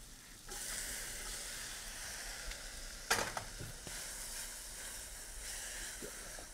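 Fresh mushrooms, peppers, tomatoes and onions sizzle in a hot pan, a steady hiss broken mid-clip by a sharp scrape and clatter as the vegetables are stirred.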